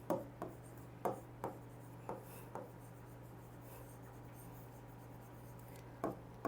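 A marker or chalk on a board in a classroom lesson makes sparse, quiet taps and short scratchy strokes over a low steady hum, with pauses between strokes.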